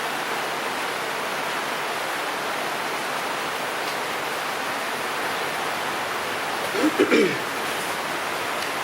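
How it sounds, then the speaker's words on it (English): Heavy rain pours outside in Jamaica, a steady dense hiss of falling water heard from indoors, with a brief clatter and a short voice near the end. "Excuse the noise, it's currently raining out in Jamaica here."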